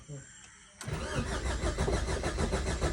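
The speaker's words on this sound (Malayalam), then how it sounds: "നമ്മൾ ഫൈനലി നമ്മുടെ വണ്ടി സ്റ്റാർട്ട് ചെയ്യാൻ പോവാണ്" A Maruti Ertiga car engine, just back from engine repair work, cranks and catches at once, then settles into a steady, loud rumbling idle close by.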